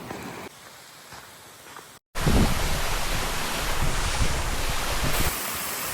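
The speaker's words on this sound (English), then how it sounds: "I'm about to make my last river crossing to get to Falls Creek" Wading across a river on the way to Falls Creek in Tujunga, California: after a short pause, loud steady rushing and splashing water fills the rest, close and continuous with no voices.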